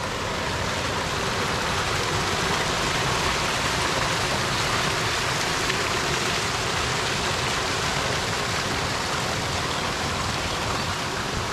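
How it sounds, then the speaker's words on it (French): A small waterfall feeding a forest stream in Spain gives off a steady, even rush of running water, continuous and unbroken, with no voices over it. "Il y a des cascades un peu partout, là il y en a une petite ici."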